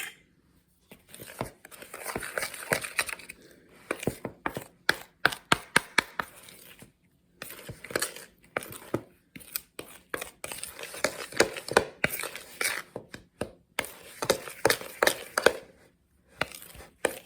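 Flour and clumpy dough being mixed by hand in a bowl, heard as irregular crisp clicks, crackles and soft scrapes in quick bursts with short pauses, fairly close and moderately quiet.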